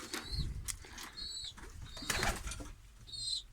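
Pigeons in a coop coo softly and rustle close by, with brief wing flaps and scattered chirps, fairly quiet and with no talking.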